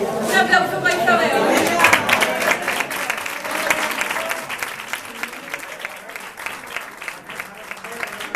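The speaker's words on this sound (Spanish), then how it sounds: "Un aplauso para Isabel." A crowd at a small gathering breaks into sustained applause, loud at first and then thinning into scattered claps, with some chatter mixed in.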